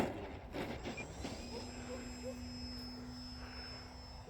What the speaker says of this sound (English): So this flight, I'm just testing how it responds taking off and landing from grass.